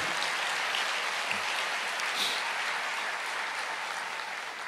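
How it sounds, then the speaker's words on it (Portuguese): Audience at a Christian worship conference applauding steadily for about five seconds, a dense, even wash of clapping with no break and no voices over it. "Aplauda o Senhor, tudo é por causa dEle."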